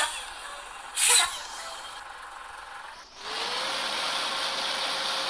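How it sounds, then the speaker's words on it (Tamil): A short hiss of a bus air brake releasing near the start in a bus driving video game, then a steady engine drone with a rising whine, no voices. "பிரேக் சவுண்ட் கூட கேட்டிருப்பீங்க."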